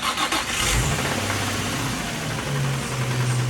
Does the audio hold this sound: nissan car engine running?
yes